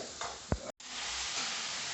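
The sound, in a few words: chicken frying in a kadai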